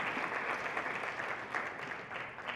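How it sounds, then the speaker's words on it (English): Crowd applause at a convention closing ceremony, a steady mid-level rush of many hands clapping, slightly distant. "Can we get one more round of applause for the families"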